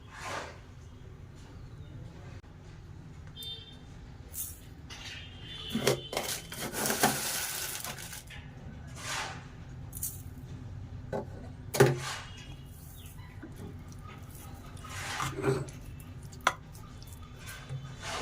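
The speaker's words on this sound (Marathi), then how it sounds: "डाळ एकदम बारीक करून घेतलेली आहे मी आता चांगलं ह्याला परतून घेते पूर्णाला चटका देऊन घेते साखर टाकते आधी" Finely ground dal and sugar sautéed in a pan for puran, with occasional metal spoon clinks and scrapes against the pan over a low, steady background; a few sharper knocks stand out.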